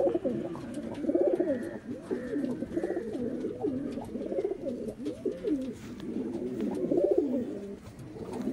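Pigeons being sold in Kerala coo continuously in rolling, repeated phrases, close and clear with no talk over them.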